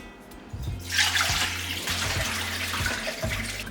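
Bloody water from boiled pho beef is poured into a kitchen sink, a steady splashing rush that starts suddenly and continues, with a low rhythmic drumming of liquid against the basin, close by and without talking.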